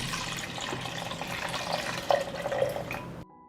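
Pineapple juice poured into a saucepan, about 1.5 liters, giving a steady liquid splash and trickle with a few brighter drips near the end before it stops abruptly.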